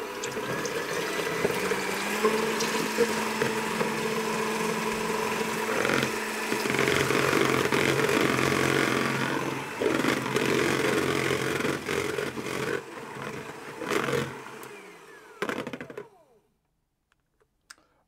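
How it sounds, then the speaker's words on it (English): An electric hand mixer whisks egg whites toward stiff peaks for a Louise cake, a steady whirring buzz with rattling clatter in the bowl, close and fairly loud, changing tone partway through before cutting out near the end. "I'm going to use my hand mixer to do that. And I want to whisk them to fairly stiff peaks"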